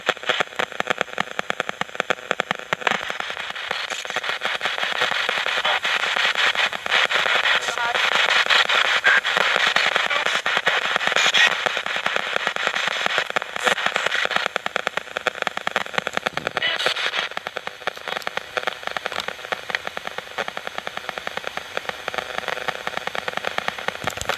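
Continuous crackling spirit box radio static sweeps rapidly between stations in a churchyard, a harsh hiss with choppy bursts and fragments throughout.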